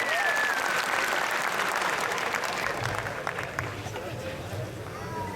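Sustained audience applause welcoming a poet at a kavi sammelan in Udaipur, a thick wash of clapping that gradually softens over a few seconds.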